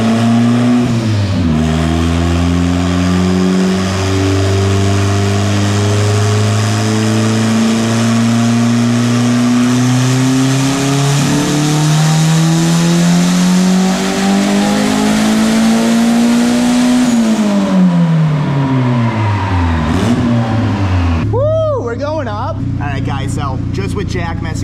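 A turbocharged Honda engine with a Garrett turbo on a dyno run, a loud, close, sustained pull whose pitch climbs steadily toward redline, then drops off sharply, followed by sputtering and a whistling spool-down.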